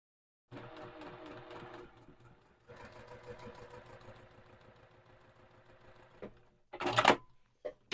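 A sewing machine stitches a quilt block in a steady mechanical run, pausing briefly and then resuming for several seconds before a short louder burst near the end.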